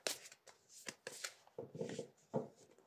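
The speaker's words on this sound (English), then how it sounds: "I'll shuffle a bit more, actually." Tarot cards being shuffled by hand in a quiet room, a run of soft riffling and slapping bursts of uneven length, close and fairly loud, with no talking.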